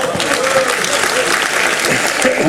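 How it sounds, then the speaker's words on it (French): An audience claps steadily at a fiftieth-anniversary gathering of a university computer science department, a dense, loud, continuous round of applause filling the room without letting up. "On peut l'applaudir."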